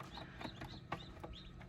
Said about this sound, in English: We got chickie babies.